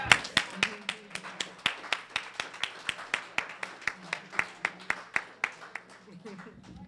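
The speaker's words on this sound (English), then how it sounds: "Should we give him a round of applause?" Audience applause at a university American Indian cultural house fall feast dinner, heard as a steady run of sharp, evenly spaced claps, fairly close and moderately loud, with a faint voice murmuring underneath.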